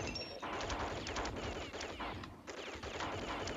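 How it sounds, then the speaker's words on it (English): Rapid gunfire from gold troopers in the video game Phoenix, a dense, continuous rattle of fast shots with brief gaps, loud and close. "they just shoot very, very quickly"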